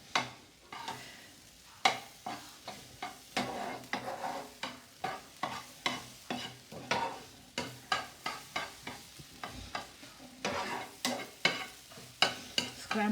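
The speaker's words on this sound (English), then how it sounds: "Scramble the egg." Egg scrambled in a pan over reduced flame for egg fried rice, a steady run of spatula scrapes and stirs, close and fairly loud, over a light sizzle with no talking.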